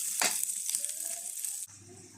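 Shallots, green chillies and curry leaves sautéing in a hot pan, a loud close steady sizzle with a brief stirring scrape partway through.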